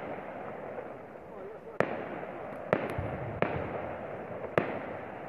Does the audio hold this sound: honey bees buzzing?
no